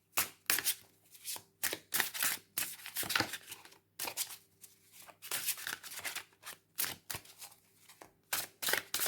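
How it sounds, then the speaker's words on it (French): Marseille tarot cards being shuffled by hand in repeated quick riffling bursts with short pauses between, close and crisp, with no talking. "pendant que je brasse les cartes"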